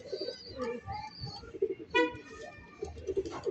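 Pigeons coo softly in repeated low, throaty calls, close by, with a few other faint bird sounds mixed in.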